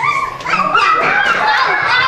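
Several young children at a fourth birthday party imitate dogs with their voices, a lively mix of yips, whimpers and little barks, loud and close.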